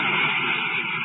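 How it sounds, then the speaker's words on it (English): Radio drama effect of spaceship braking rockets firing full, a continuous roaring rush with a steady engine-like drone, loud and sustained without breaks or voices. "Give me braking rockets full."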